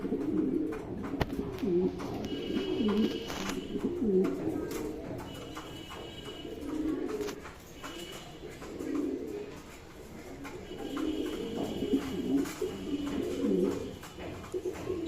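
Pigeons coo in low, throaty rolling calls that repeat in waves throughout, fairly close, with faint chirps and background hum.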